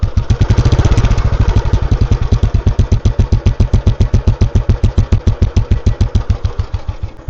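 A 2003 Royal Enfield Bullet, an ex-army vintage motorcycle, idles close by with its loud, slow thumping beat, evenly spaced pulses repeating steadily and easing slightly in pace, with nothing else heard.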